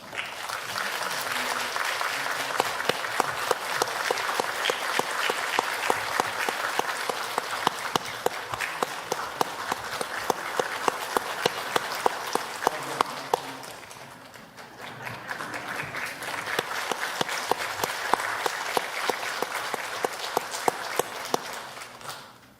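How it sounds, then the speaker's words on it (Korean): Sustained applause from a church congregation during a Sunday worship service, dense steady clapping that swells, dips briefly midway, then resumes strongly before fading at the end. "여러분들은 박수를 치시면 됩니다"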